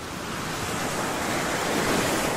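Ocean surf at Malecón de la Draga beach in Negritos, Peru, a steady broadband wash of breaking waves that swells slightly louder toward the end, with no voices.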